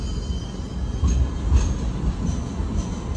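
A larger standard passenger train in Sydney runs by nearby with a continuous heavy rumble, wheel clatter and thin metallic squeals over the steady roar.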